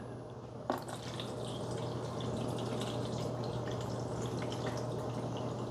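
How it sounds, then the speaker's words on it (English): Water pouring steadily into the front-access reservoir of a Bunn Speed Brew Platinum Thermal 10-cup coffee maker, a continuous trickling and splashing close by after a brief knock, over a low hum. "I'm going to add the water."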